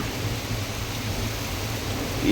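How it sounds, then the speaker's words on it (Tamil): A heavy downpour in Ambattur makes a continuous broadband wash with a low rumble beneath it, swelling slightly near the end. No one speaks. "அம்பத்தூர் பகுதியில் சரியான மழை மழை அந்த மாதிரி பெய்யுது"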